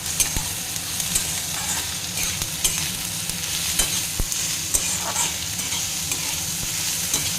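Sliced onions fry with a salt pinch in a pan, giving a steady close sizzle with light scraping and clicking from stirring.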